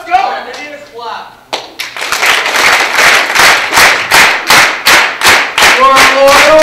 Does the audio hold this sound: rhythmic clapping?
yes